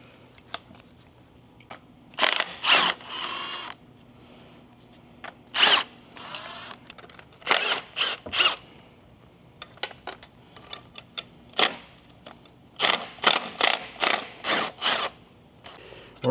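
Ratchet wrench working a stubborn bolt on a twin-turbo 1993 Acura NSX engine, heard close as repeated bursts of rapid clicking separated by pauses, with a few clanks of tools in between.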